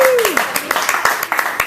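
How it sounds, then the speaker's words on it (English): Audience at a Business Rocks event in March 2014 clapping in an even patter, with a voice speaking over the start of it. "Give yourselves a round of applause for being here."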